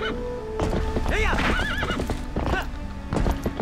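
A horse whinnies loudly over steady clip-clopping hooves in Zelda: Twilight Princess, with a rich, echoing game mix and a second neigh near the end.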